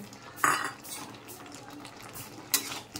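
Sliced bitter gourd tipped into a pan of frying fritters and stirred with a metal utensil, two sharp clinks and scrapes against the pan over a low, steady cooking hiss.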